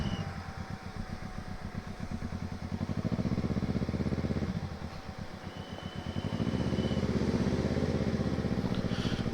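A Kawasaki ER6n motorcycle, a 2012 model, idles nearby with a steady low throbbing pulse, the engine note swelling and easing slightly in a couple of waves.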